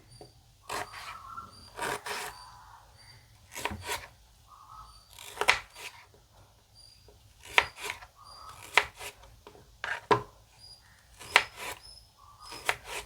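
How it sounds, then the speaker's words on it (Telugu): Onions chopped with a knife give sharp, irregular cutting taps, close and fairly quiet, about a dozen strokes spread over several seconds with short pauses. "ఆనియన్స్ కూడా కట్ చేసుకోవాలి"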